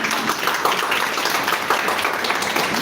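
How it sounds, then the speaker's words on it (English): An audience at a live public health policy discussion applauds a group presentation with a dense, steady wash of clapping that holds at moderate loudness throughout. "A huge round of applause for the group and Doctor"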